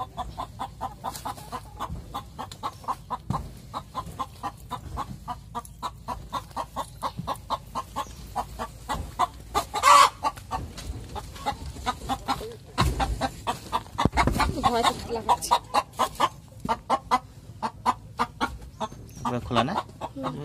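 Chickens cluck steadily in a village coop in the Sundarbans, with repeated close calls and occasional louder squawks over background scuffling, and people talk at times.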